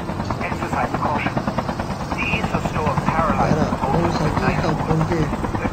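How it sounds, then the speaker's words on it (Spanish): A helicopter in the video game Undead Siege makes a loud, close, steady rotor chop with an engine drone throughout, while someone talks over it. "Voy a intentar estacionar el helicóptero ahí, aparcarlo, dejarlo ahí"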